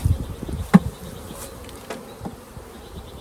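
Honeybees from a package being installed into a hive drone in a steady close buzz, with a few sharp taps and knocks cutting through, and no talking.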